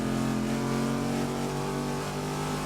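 Engine of a car revving in the racing video game Grid, a loud steady engine tone with layered harmonics that holds constantly throughout, no talking over it.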